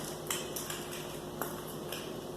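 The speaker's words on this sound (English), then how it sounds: "I'm going to give this a little bit of a stir" A spoon stirring beans in a cooking pot gives a few light metallic clinks and scrapes at irregular intervals, close by and fairly quiet over a low steady kitchen hum.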